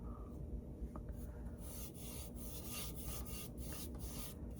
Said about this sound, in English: I'm going to start painting it now.